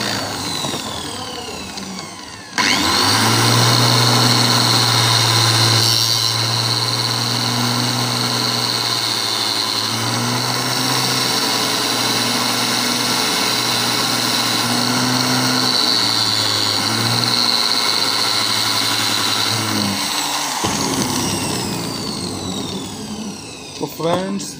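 An emery wheel grinder sharpening wood carving tools, starting abruptly and running as a loud steady motor whine with grinding hiss for about eighteen seconds, then spinning down.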